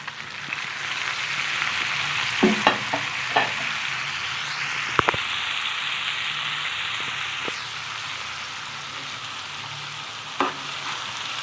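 Onions and tomato sautéing in a pan for biryani give a steady, fairly loud sizzle with a few sharp clinks of stirring scattered through it and no talk.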